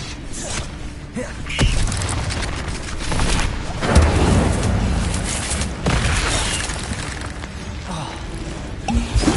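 Fire spell blasts and combat effects in the Hogwarts Legacy video game, a dense, loud, continuous wash of booming bursts, crackles and mechanical clatter with repeated heavy impacts and little letup.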